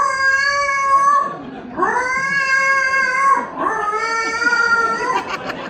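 A person imitates a normal cat sitting at the side, giving three long, drawn-out, wavering meows in a row, close and loud.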